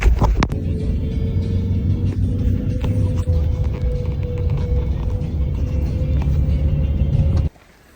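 A car driving along a road in the Carpathian mountains while hitchhiking, a steady loud engine rumble and road noise close up, cutting off abruptly near the end.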